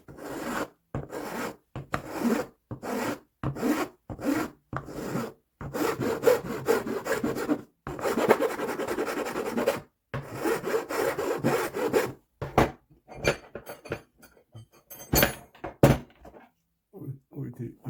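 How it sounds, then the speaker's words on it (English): A hand file rasps across wood while a jeweler's bench pin is shaped, giving repeated rhythmic back-and-forth strokes that sound close and scratchy, with short pauses between bursts. "this is where the files come in"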